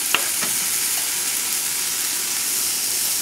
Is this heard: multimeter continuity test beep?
no